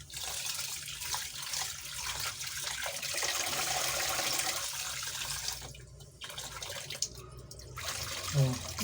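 Water runs steadily for several seconds, a continuous splashing stream into a rice pot, with a brief pause and some clinking near the end.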